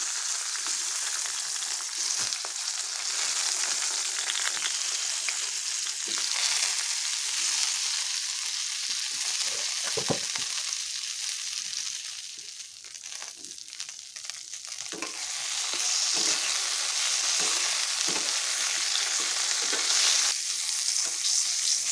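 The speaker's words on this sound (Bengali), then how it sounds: "তেল গরম হয়ে গেছে দিয়ে দিচ্ছি নুন হলুদ মাখিয়ে রাখা বেগুনগুলো প্রথমে বেগুনটাই ভেজে নিচ্ছি" Salted, turmeric-coated eggplant pieces frying in hot oil for a Bengali hilsa dish, a steady loud sizzle and crackle lasting throughout, dipping briefly before rising again.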